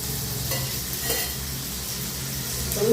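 Oil hitting a hot pan for a Telugu lentil and tamarind dish: a steady, moderate sizzle with soft stirring noises and a faint utensil touch near the end.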